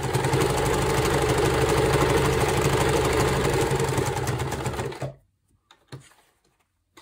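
Sewing machine stitching a slow-stitch journal cover, a fast continuous whirring run close by that stops abruptly after five seconds, followed by a few faint clicks of handling.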